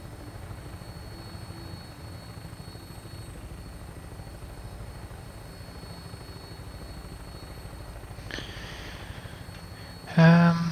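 An aircraft in Fallout 4 takes off with a steady rotor-like engine drone. A brief sharp burst and a louder tonal blip come near the end.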